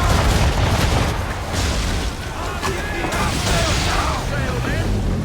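Cannon fire booms from a naval battle in Assassin's Creed III, heavy loud blasts and rumbling debris layered under dense battle noise, with voices shouting throughout.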